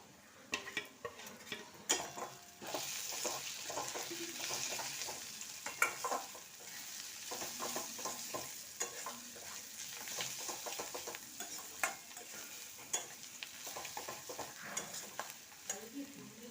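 A spoon stirs spices frying in a pan for Bengali-style dahi tarka soya curry, with a steady sizzle under repeated scraping and clinking strokes against the metal, close and continuous with no talk.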